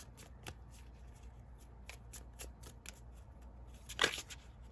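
Tarot cards being shuffled by hand before a draw: soft, quiet riffling flicks recur through the clip, building to one louder, sharper burst of cards near the end, with no voice over them.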